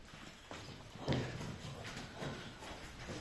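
Young horses, one-and-a-half-year-old foals, walking past with hooves clip-clopping in an uneven rhythm, moderately near with a louder knock about a third of the way through.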